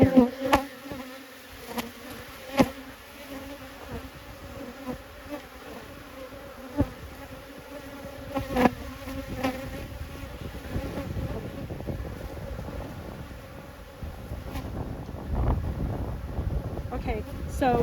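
Honeybees buzz steadily around an open hive, a soft continuous drone with a few sharper clicks and some wind noise on the microphone.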